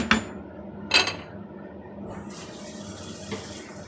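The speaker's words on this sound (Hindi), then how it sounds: "जितना दाल था उतना इसमें पानी डालेंगे" Water runs steadily into a pot of lentils for sambar after a couple of sharp clinks, a soft continuous splashing rush that stays at moderate volume.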